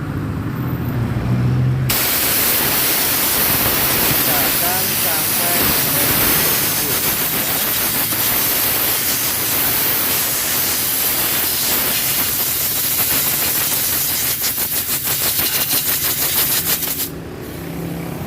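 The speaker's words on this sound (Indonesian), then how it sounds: "Oke, dan kita semprot." A spray jet hisses steadily and loudly for a long stretch as it cleans the filter of a Tiger motorcycle, starting abruptly and cutting off near the end.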